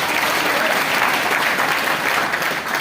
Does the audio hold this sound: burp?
no